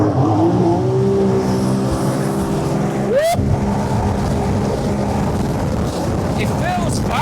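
A JetBlaster Pro jet ski runs laps around a water course through choppy water, its engine a steady loud droning roar with a brief rising whine midway, mixed with rushing wind buffeting the microphone throughout.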